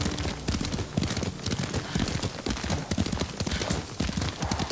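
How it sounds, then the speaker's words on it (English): A horse's hooves clip-clop at a steady gallop while being ridden in Ghost of Tsushima, loud and continuous across the whole stretch with no talk over it. "Lord Sakai taught me to ride a horse"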